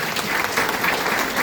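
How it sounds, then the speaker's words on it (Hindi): Dense, steady applause from a seminar audience in Dehradun, a short continuous burst of many hands clapping together, fairly close and even in loudness. "तो एक बार महिलाओं के लिए जोरदार तालियां।"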